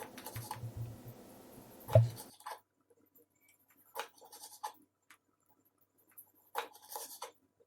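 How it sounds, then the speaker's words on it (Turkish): A knife cuts an aloe vera leaf into thin diagonal strips. A few soft cutting sounds follow a short stretch of steady noise, then scattered quiet taps and scrapes at close range with long silent gaps. "Daha sonra verev bir şekilde ince ince kesiyorum."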